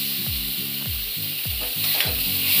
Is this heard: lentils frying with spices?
yes